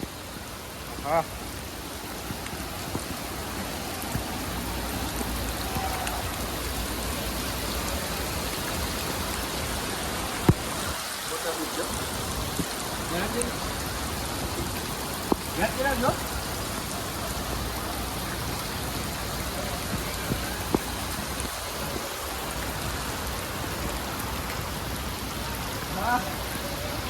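Heavy rain pours steadily outdoors near Haridwar in a broadband wash, with a few louder drops or knocks on a surface. Voices talk faintly at times beneath it.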